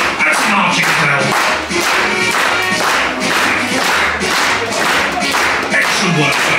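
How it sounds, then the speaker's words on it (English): A concert crowd at Jimmy's in Liverpool claps steadily in time with a live song, the rhythmic hand claps thick and loud over the music. "Let's get some clapping going."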